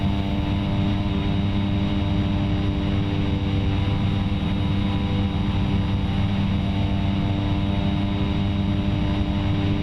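Steady, loud droning of a propeller aircraft engine cruising in flight in a general aviation flight simulator, a constant tonal hum with no pauses or voices.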